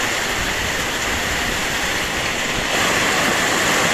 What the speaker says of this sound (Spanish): esta es la lluvia que estaba haciendo falta para que todos los arroyuelos agarren algo de agua